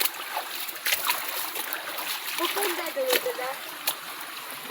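Water trickles and splashes steadily as a stream runs down from a hillside after heavy rain, a continuous wet hiss with a voice speaking over it.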